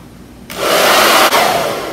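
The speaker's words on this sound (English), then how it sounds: "And now blow dry for 2 more minutes, still on the warmer setting." Hair dryer on the warm setting blow drying curly hair, switching on abruptly and then roaring loudly and steadily at close range, with one brief dip before settling slightly quieter.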